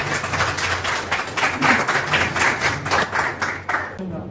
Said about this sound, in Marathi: एका जोरदार टाळ्या त्यांच्यासाठी.